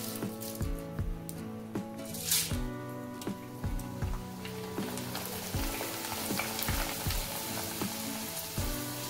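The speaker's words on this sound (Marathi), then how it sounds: "तर अगोदर मी मक्की पोहे तळून घेते" Corn poha flakes frying in hot oil over full flame for corn chivda, a dense continuous sizzle with repeated bubbling bursts and stirring scrapes throughout.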